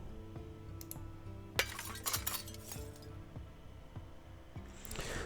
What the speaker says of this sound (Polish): Usuniemy szkło.